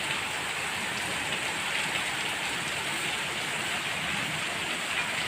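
Heavy rain pours down steadily in Delhi, a dense, constant hiss with no pauses and no voices.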